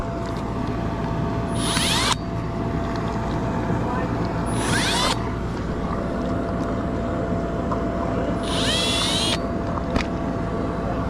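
A drill with a 1/8 inch bit bores pilot holes into mortar at a swimming pool build: three short bursts of rising, high-pitched whirring cut in over a steady background rumble.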